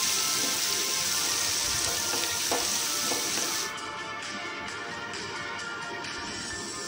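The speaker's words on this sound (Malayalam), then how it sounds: "നമുക്കതിനകത്തേക്ക് കുറച്ച് ഉള്ളി ഇട്ട് കൊടുക്കാം. നേരത്തെ നമ്മൾ കട്ട് ചെയ്ത് വെച്ച ഉള്ളി ഇല്ലേ, അത് ഇട്ട് കൊടുക്കാം. നന്നായിട്ട് വഴറ്റിയെടുക്കാം." Chopped onions sauté in hot oil in a pan for a Kerala tapioca and dried shrimp dish, a loud, bright sizzle with soft stirring scrapes that drops to a quieter fry partway through.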